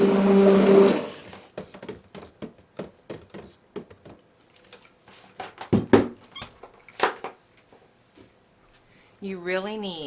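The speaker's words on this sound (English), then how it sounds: "You really need a really good stick blender for that." A stick blender mixing hot-process liquid soap whirs loudly for a moment, then stops amid clattering and scraping, before a warbling motor whine starts up again at the end.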